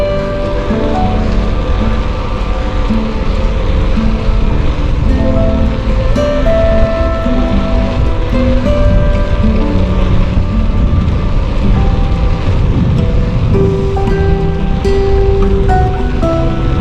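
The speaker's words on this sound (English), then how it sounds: "the wind is very cold" Loud, constant wind roar rushing over the microphone during a winter bicycle ride along city streets, a dense rumbling wash that stays steady the whole time with faint tones mixed in and no talking.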